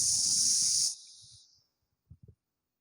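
A child imitates a snake's hiss with a loud, steady breathy hiss lasting about a second, which then fades into soft breathing, followed by a couple of faint short vocal sounds.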